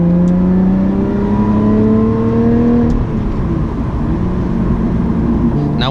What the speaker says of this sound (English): with the engine of the Lotus Evora 400 being mid-mounted, of course that gives you more of the feeling of a supercar because you hear the engine roar